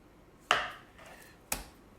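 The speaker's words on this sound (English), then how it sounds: "I'm just going to very gently score this with my knife" Two sharp knife strikes against a board while scoring the fat cap of a raw duck breast, each a crisp tap with a brief scraping tail, about a second apart.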